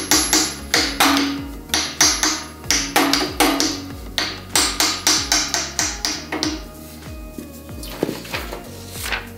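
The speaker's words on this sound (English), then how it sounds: "Sometimes you got to use a little bit of a hammer, use a rubber hammer or anything." Repeated sharp hammer taps, a rubber hammer knocking a part onto the reel of a Toro Greensmaster Flex 2100 cutting unit during assembly, in quick steady bursts of close, loud strikes throughout.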